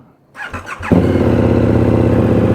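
A KTM 1290 Super Adventure S motorcycle engine starts with a short cranking sputter, then catches into a loud, steady, close-up idle rumble that holds to the end, with no talk.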